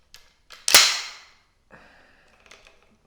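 The opening key of a Darne 12-gauge shotgun is lifted with a sharp metallic snap. A brief ringing decay follows, then a few lighter mechanical clicks and scrapes, close up and with no voices.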